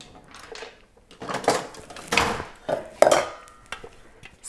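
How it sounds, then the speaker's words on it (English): A spatula scrapes chopped bacon out of a frying pan while making a frittata, giving several close, irregular metallic scrapes and clinks. "spatula to get all that out."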